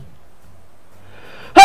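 A single sharp, loud sneeze bursts out at the very end after near silence, with faint breathy sounds leading up to it.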